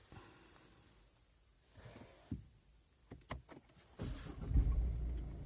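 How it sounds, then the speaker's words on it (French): A 2012 Ford B-Max 1.6 TDCi 95 hp diesel: a few dry clicks and knocks, then the engine cranks and catches, settling into a steady, close, low idle rumble. "on va tenter un démarrage"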